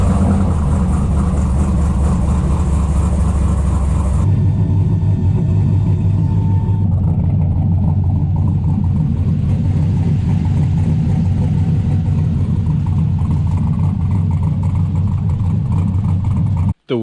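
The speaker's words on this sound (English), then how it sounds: "The truck's been sitting in storage for a few months now, so hopefully it fires up." A 1972 Chevrolet C10 pickup with an LS engine swap and fuel injection, after months in storage, runs loud and close with a deep steady rumble, settling into a lower, smoother idle partway through before cutting off abruptly.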